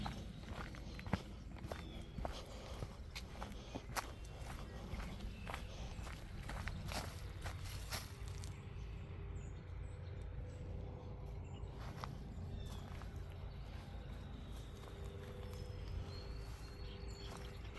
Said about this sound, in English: Random footsteps.